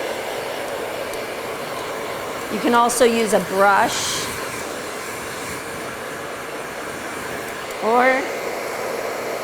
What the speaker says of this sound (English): it's always a good idea to use a dryer using your fingers